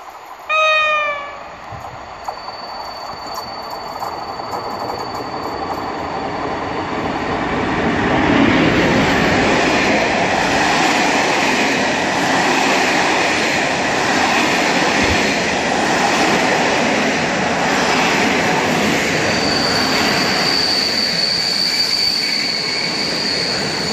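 TLK Wolin passenger train hauled by an EP07 locomotive arriving at Międzyzdroje station, a broad rolling rumble that swells and holds steady with faint squealing tones, loud and close.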